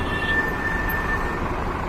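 A train passes close by on a route from Dhaka, a loud, continuous rumble with a faint thin metallic squeal running through the middle.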